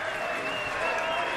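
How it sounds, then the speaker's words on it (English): A poker tournament crowd erupting in steady applause and cheering, a dense continuous wash of clapping filling the room, with a commentator's voice faintly underneath. "Crowd going nuts here."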